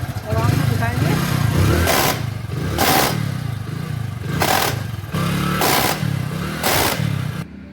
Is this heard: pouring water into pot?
no